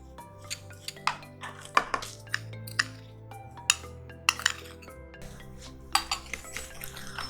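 Room-temperature milk and powdered sugar for a bakery-style plain cake batter being mixed in a bowl, a spoon or whisk clinking and scraping against the sides in irregular taps, close and soft.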